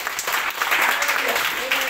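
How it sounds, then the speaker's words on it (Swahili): Church congregation clapping for Jesus during a Swahili sermon, a steady dense patter of hands filling the space at moderate loudness, with voices partly mixed in. "Kama unaamini tupikie Bwana Yesu makofi."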